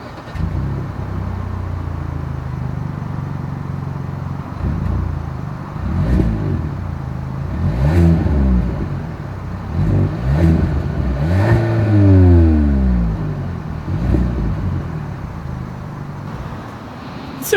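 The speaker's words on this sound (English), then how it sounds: "Here is that exhaust clip." Exhaust of a 2022 Kia K5 midsize AWD sedan with a single outlet, idling steadily and then blipped through several sharp revs that rise and fall in pitch, heard alone and fairly close.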